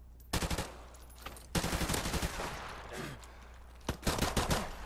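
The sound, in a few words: gunfire in a shooter video game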